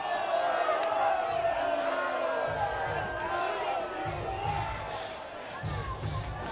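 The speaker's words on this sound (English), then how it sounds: "Crowd behind home plate didn't like it." A baseball crowd seated behind home plate at a Somerset versus New Hampshire game reacts to a pitch, rising in a loud, jeering swell of voices that slowly settles while an announcer talks over it.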